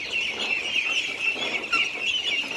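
Dutch super ducks on a Can Tho farm raised alongside fish, a dense continuous chorus of quacking and clucking from many birds at close range, with no talking.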